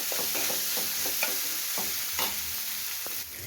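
Onions for potato bhaji fry in a pan with a continuous close sizzle and repeated stirring scrapes of a spoon against the pan, with no voices.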